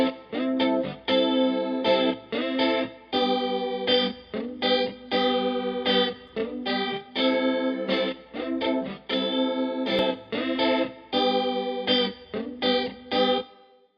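A music track processed by Logic Pro's Mod Delay modulation effect gives sustained harmonic chords a wavering, chorus-like shimmer, repeating in steady rhythmic phrases at moderate loudness with no voices.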